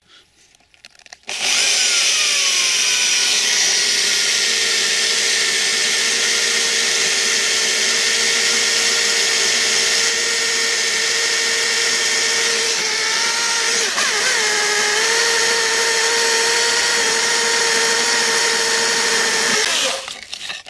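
A power drill bores a hole into a ceramic baking dish to make a bonsai pot, a loud steady high whine lasting about eighteen seconds that starts and stops abruptly.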